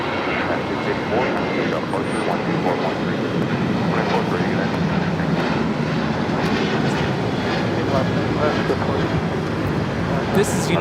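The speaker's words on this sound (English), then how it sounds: "684 taking off to Seattle on the 737-800" A Boeing 737-800 airliner takes off at Los Angeles airport, a broad, steady jet roar heard from a distance that holds level throughout, with faint voices over it.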